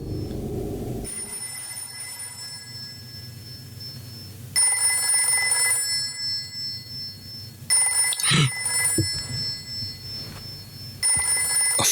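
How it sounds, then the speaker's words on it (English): A telephone rings in the horror video game Haunting Ground, repeated electronic bell bursts in a regular on-off pattern over a low ambient drone, with a brief thud between rings. "A phone."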